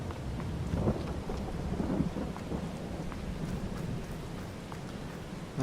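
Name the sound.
rain and thunder in Farming Simulator 22 video game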